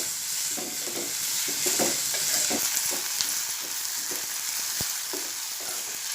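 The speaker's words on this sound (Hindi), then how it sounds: "अब प्याज नरम होने तक मैं इसे" Chopped spring onions sizzling in a hot pan over a raised gas flame while being stirred, steady frying hiss with repeated scraping and clinking spoon strokes up close, no voices.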